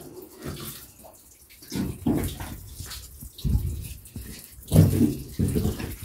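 Water runs and splashes in an underground setting, faint and uneven, surging in several bursts with quieter gaps between, close by.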